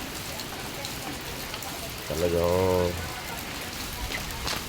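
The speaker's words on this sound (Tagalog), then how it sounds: "Talagang walang tigil po ang ulan. Walang humpay ang ulan." Heavy rain falls without pause, a dense steady hiss of drops on surfaces outdoors, with a voice speaking briefly over it midway.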